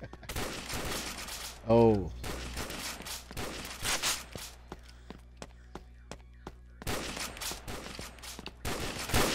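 Video game gunfire from Pixel Strike 3D, a blocky online shooter, with bursts of shots scattered across the clip and a brief voice exclaiming near the start.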